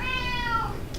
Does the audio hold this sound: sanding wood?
no